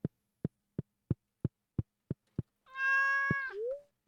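In Stardew Valley, eight evenly spaced soft game thumps precede a cat's single long, clear meow, followed by one more thump and a short falling cry, all close and free of talk.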